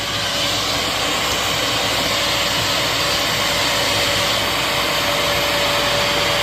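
A Shark vacuum cleaner, either a CU510 or NV60 model, runs loud and constant at close range, a dense airy roar with a faint steady tone and no voices.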